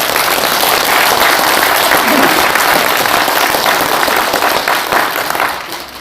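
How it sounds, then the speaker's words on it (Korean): Loud, dense applause from an audience at a special lecture and annual general meeting carries on steadily and tapers off slightly at the very end. "이럴 때는 여러분들의 박수가 필요합니다"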